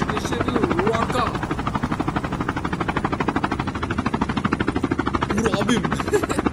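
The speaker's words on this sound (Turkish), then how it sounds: "Burada bir helikopter fight gerçekleştirebilirim." A helicopter in a video game battle, heard close and loud as a continuous rapid rotor thump over a dense engine roar that persists throughout.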